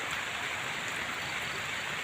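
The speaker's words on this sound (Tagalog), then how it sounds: "Puro ulan dito guys." Heavy rain pours steadily outdoors, a dense, even hiss of falling water with no break, at moderate level and with no voices.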